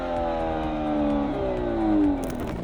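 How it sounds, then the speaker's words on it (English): A Hyundai car engine revs steadily up and then eases back, a smooth mid-pitched drone from nearby with no talk, though any exhaust pops are not clearly distinct. "Small pops on the overrun. Subtle cracks between shifts."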